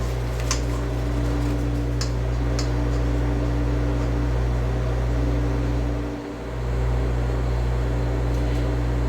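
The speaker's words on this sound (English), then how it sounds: "excuse if my kitchen sounds a bit noisy because the ice machine is currently running" A kitchen ice machine runs with a loud, constant low mechanical hum and drone that dips briefly midway, with a few light ticks near the start.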